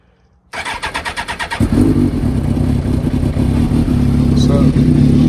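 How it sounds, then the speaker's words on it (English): A Suzuki GSX-R 750/1000 sport motorcycle cold-starts after sitting unused for a while: a rhythmic cranking of the starter, then the engine catches and settles into a loud, close, steady idle. "so I'll do a cold start for y'all guys"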